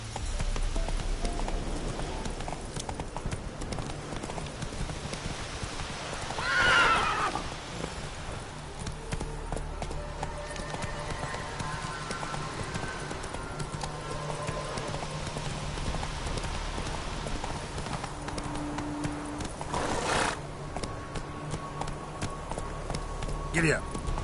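Roach the horse, in The Witcher: Wild Hunt, moves at a steady, rhythmic gallop of hoofbeats against a low ambient bed. A voice speaks over the gallop in places.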